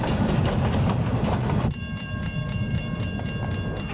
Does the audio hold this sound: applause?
no